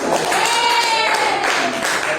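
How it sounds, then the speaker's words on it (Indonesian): Students in a classroom clap together, a steady broadband patter lasting the whole moment, with voices talking over it. "kita tepuk tangan dulu"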